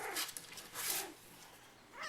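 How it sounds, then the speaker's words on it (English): Puppy about three to four weeks old, shut in a box with littermates, giving a few short high whines and whimpers, close and fairly faint. "A little frustrated you can't get out of the box?"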